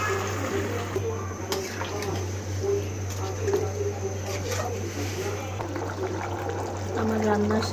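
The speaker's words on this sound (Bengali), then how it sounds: "ঝোলের জন্য দিয়ে দিচ্ছি গরম পানি।" Hot water poured into a pot of home-cooked meat curry, a steady wet splashing pour over a constant low electrical hum, with faint voice-like sounds in the background.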